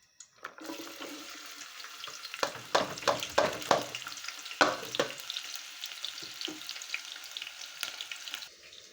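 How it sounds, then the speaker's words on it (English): Bulb or red onions frying in hot oil in a sufuria for a carrot and red bean dish, a steady close sizzle with bursts of crackling and stirring scrapes through the middle, fading to a softer hiss. "Our bulb onion or red onion is in the process of cooking."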